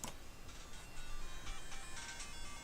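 A phone rings with an incoming call during a game stream, giving repeated short electronic tone bursts in a quick pattern, faint and thin against a quiet background, with no talk.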